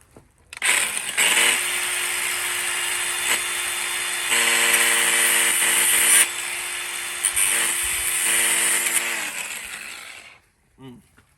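An electric file grinds the bottom rollers of a Hitachi EX100-5 excavator with a loud, steady, high-pitched whine that holds for about nine seconds with brief dips, then winds down and stops.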